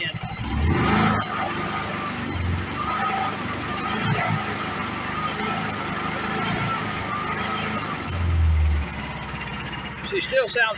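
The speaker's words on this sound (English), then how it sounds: "We got the exhaust system. Oh, you didn't hear it rev up." Boat engine on a trimaran fitted with a custom hot rod exhaust system, a low steady idle rumble with a couple of brief revs swelling up, heard close with people talking over it.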